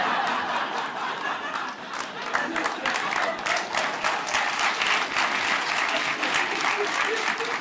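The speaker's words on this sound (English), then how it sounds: "sometimes when people start applauding" An audience at a stand-up comedy show applauds steadily with dense, sustained clapping and some scattered laughter mixed in throughout.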